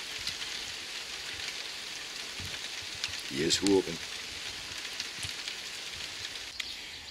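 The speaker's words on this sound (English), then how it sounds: "hopefully this rain will die off" Steady rain falls outside while a car is being filled with water, making a soft, even patter that runs throughout. A person speaks briefly in the middle.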